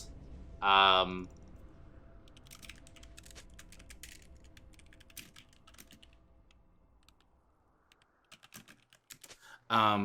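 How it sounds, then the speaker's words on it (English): Rapid clicking of computer-keyboard typing runs through the middle several seconds at a moderate level, with a voice talking briefly at the start and again at the end. "why was I typing?"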